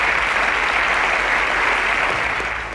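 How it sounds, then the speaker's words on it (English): An audience at a quiz show applauds a contestant with dense, steady clapping that fills the room and fades slightly at the end. "Round of applause for Enoch."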